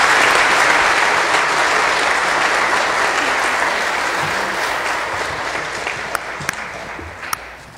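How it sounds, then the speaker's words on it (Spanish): Loud, sustained applause from a parish congregation welcoming a priest at a Mass fills the space, then slowly thins out, with a few sharp single claps close by near the end. "le damos un aplauso al Padre en esta bienvenida a su parroquia"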